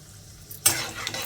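Mustard seeds, urad dal, chana dal and cumin hit hot oil for tempering over a medium flame. After a quiet start comes a sudden loud sizzle, followed by crackling and brief scraping of a stirring spoon.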